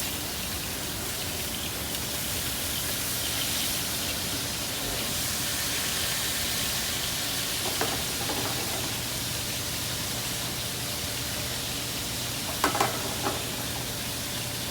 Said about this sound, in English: We're going to let that come to a simmer.